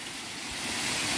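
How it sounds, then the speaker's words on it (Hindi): Waterfall in Koloriang, Kurung Kumey, a steady broad rush of falling water, continuous and fairly loud with no voices. "यहाँ पे एक प्यारा सा झरना मिला है"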